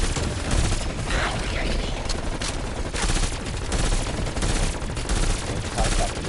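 Sustained heavy gunfire in the video game Call of Duty Cold War Zombies, with rapid overlapping bursts that keep going without a break and voices faintly mixed underneath.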